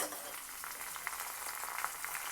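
Curry leaves and a dried red chilli sizzle and crackle in hot oil with browned garlic as a tempering is made, a steady close frying hiss with small pops.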